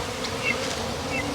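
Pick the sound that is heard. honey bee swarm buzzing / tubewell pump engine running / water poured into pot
honey bee swarm buzzing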